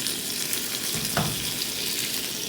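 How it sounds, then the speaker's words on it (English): Chorizo sizzles and fries in a hot pan, a steady close crackle with a brief stirring scrape partway through and no talking. "you're going to see that it's going to start sizzling because it's hot"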